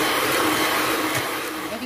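An electric mixer whirs steadily, beating margarine and brown sugar together for a ginger cake batter, a close continuous motor drone with no talk.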